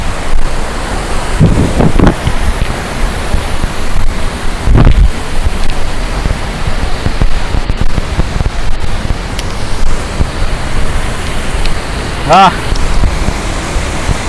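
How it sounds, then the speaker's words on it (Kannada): A rushing stream at Devkar waterfalls near Yellapur, Karnataka, gives a loud, continuous roar mixed with wind buffeting on the microphone, with a few brief voices heard over it. "ಹಳ್ಳ ಹರಿದು ಹೋಗ್ತಾ ಇರೋದನ್ನ"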